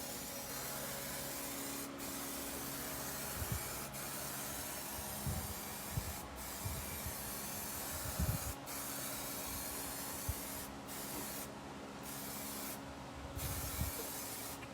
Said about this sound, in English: I'm just going to spray a little more just to try to even this out a little bit.